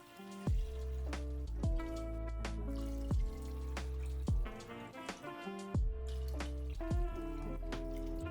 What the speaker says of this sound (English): Then we'll pour in 4 quarts of water.